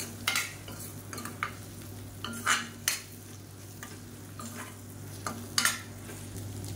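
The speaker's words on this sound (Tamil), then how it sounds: "இப்போ இந்த முட்டையை வந்து நல்லா ஸ்க்ரம்பிள் பண்ணிக்கலாம்." Three eggs scramble in hot oil in a pan: a soft steady sizzle under repeated sharp scraping strokes of a spatula, heard up close with no talking.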